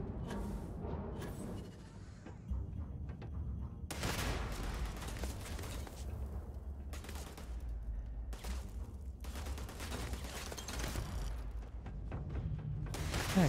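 Gunfire in the Starfield video game, scattered bursts and rattling volleys recurring throughout, fairly faint and distant-sounding with mechanical clatter between the shots.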